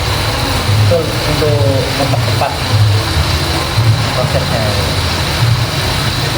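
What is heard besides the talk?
mechanical weaving loom in Troso weaving village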